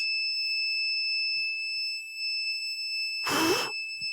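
A digital thermometer gives a steady, high electronic beeping tone that runs continuously, then a brief loud burst of noise cuts across near the end.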